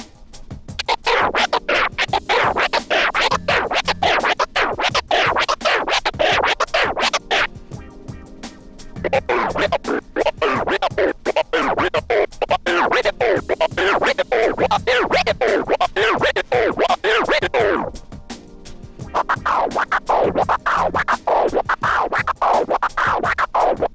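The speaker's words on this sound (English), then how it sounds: "Try using Twiddles using different samples" Rapid turntable scratches in quick back-and-forth bursts, loud and up close, arriving in three long runs separated by brief pauses.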